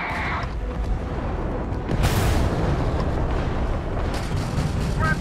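Enemy ship blowing apart in the space game Starfield, a dense roaring explosion with rumbling bursts that builds midway, with a player talking over it.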